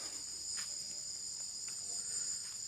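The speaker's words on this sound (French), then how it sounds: "Les grillons, là, on entend." Crickets chirp in a steady, high, continuous trill in Isan, Thailand, faint and distant, with no other sounds around.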